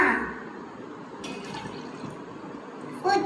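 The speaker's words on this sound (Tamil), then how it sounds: "பாத்திரத்துல பால் ஊத்தியாச்சு. தண்ணி ஊற்றலாமா?" Water is poured into a pot of milk on the stove, a soft steady liquid pour with light splashing that briefly swells near the end.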